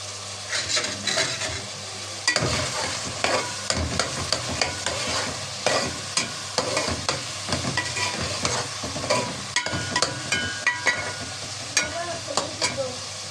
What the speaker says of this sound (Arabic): حطينا الزيت بتاعنا وهنبدا نحمر بقى البصله بتاعت رز الصياديه